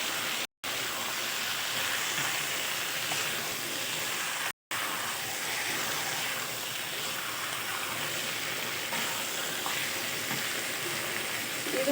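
Chicken frying in spice masala with a little water added, a continuous dense sizzle and bubbling hiss, broken by two very brief dropouts.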